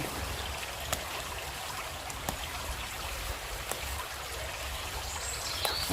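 Water flows along a stream or canal bank with a steady soft rushing, punctuated by a few faint clicks and ticks, quiet and moderately distant with no voices.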